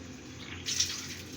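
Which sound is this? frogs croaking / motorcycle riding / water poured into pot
water poured into pot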